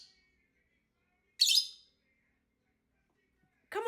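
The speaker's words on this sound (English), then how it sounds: "Get this bird up out of there." A pet parrot perched in a kitchen spice cupboard gives a few short, sharp chirps and squawks close by, separated by silence.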